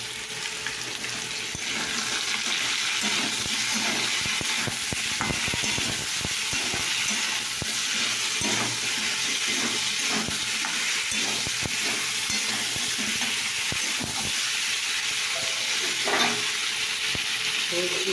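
Turmeric fries in a pan while a utensil stirs it, giving a steady close sizzle broken by repeated scraping strokes, with no talking.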